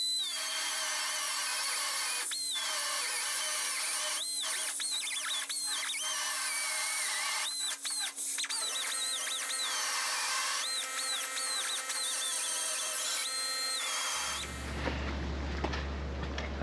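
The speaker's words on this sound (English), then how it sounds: "Let me get my grinder set up, and let's cut a slit in that." An angle grinder cutting a slit into a steel fit-up piece, a loud, close, high whine that rises and dips with the cut and keeps going for many seconds, then stops into a lower rumble.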